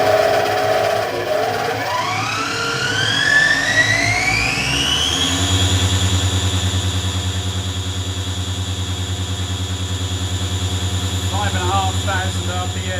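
A Syil X4 CNC mill spindle with new drive pulleys spins up, its whine climbing steadily in pitch, then settling into a constant high hum at 5,500 RPM, close and steady.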